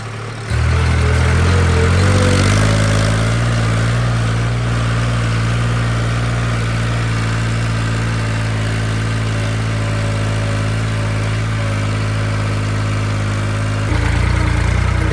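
A tractor hauling one trailer runs with a loud, steady low engine drone and constant harmonic hum, briefly changing pitch near the end, close by with no talking.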